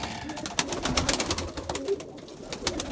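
Purebred Erzurum white pigeons coo in a loft, soft repeated throaty calls close by over a rustling background with wing flutters.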